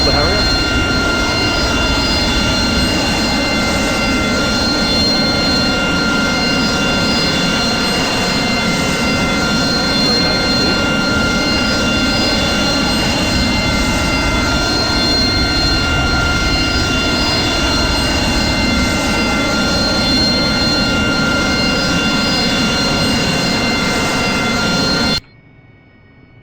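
An AV-8B Harrier's jet engine in the DCS flight simulator drones in a loud, constant roar with steady high whining tones, holding evenly for about 25 seconds before cutting off abruptly near the end.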